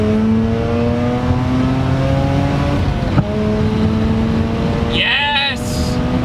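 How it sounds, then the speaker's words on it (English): A Mazda RX-8 rotary engine revs hard and close, its smooth buzzing tone climbing steadily in pitch, dipping briefly, then rising again before a sharp shift to a higher whine near the end. "when you rev a rotary out, there's nothing like it"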